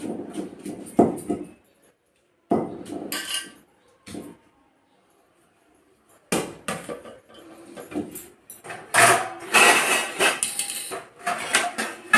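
Green chillies pounded in a stone mortar for gongura chutney, producing bursts of knocking and scraping thuds separated by quiet pauses, louder and denser toward the end.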